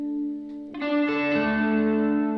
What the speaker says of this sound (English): I'll have my reverb on and I'll just swell in that same chord